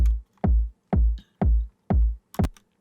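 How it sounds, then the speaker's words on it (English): Six punchy techno kick drum hits in an even, evenly spaced sequence, each a loud, deep thump with a quick decay. The last hit sounds slightly different and brighter, and nothing else plays. "If you take a look at first to the kick sounds like this."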